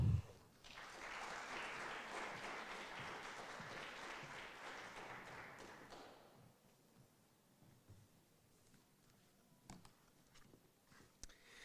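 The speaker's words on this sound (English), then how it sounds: "please give a big round of applause to our first talker of the second half, Andrei Petukhov from the Health Board." Applause from an audience at an orientation day event welcoming a Health Board speaker, a dense sustained wash of clapping for about six seconds that then fades to scattered handling noise and a few isolated taps.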